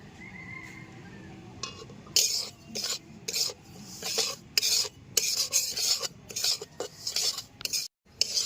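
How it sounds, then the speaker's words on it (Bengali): Semolina dry-roasting on low heat for suji halwa, stirred with a spoon in quick, rhythmic scraping strokes against the pan, close and fairly loud after a quieter start, with no talk. "প্রথমে আমরা সুজিটা হালকা আঁচে একটু সেঁকে নেব, যাতে কাঁচা গন্ধটা চলে যায়।"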